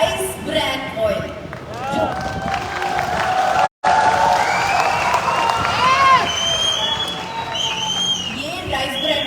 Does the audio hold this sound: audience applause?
yes